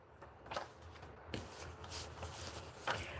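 Tarot cards being shuffled by hand, a series of soft papery riffles and taps with a few sharper slaps, close and fairly quiet with no talking.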